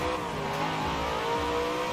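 A car engine in the racing video game Forza Horizon 4 roars steadily and loudly for the full two seconds, a sustained revving drone with no speech over it.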